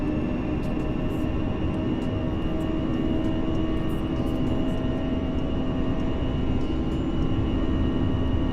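Simulated Airbus A340-300 engines at takeoff power in X-Plane 12, a loud, steady jet roar with sustained whine tones holding constant throughout, no voices over it.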